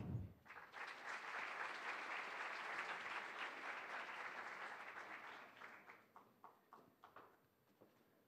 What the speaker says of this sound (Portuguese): Convidamos, com uma salva de palmas, Brian Winter.